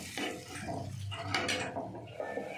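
Water poured into a pan of simmering fish curry, a short splashing pour lasting a couple of seconds, heard close up with no talking.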